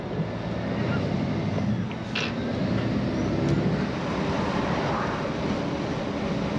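A car driving, heard from inside as a steady low rumble of engine and road noise with some wind buffeting throughout, close and fairly loud, with no talking.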